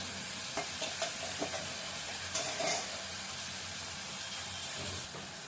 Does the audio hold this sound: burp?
no